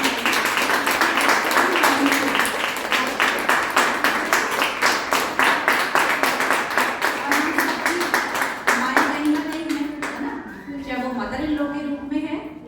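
A crowd at a Mother's Day celebration claps for the mothers attending, with dense, steady applause through most of the stretch that thins and fades near the end as a voice starts talking over it.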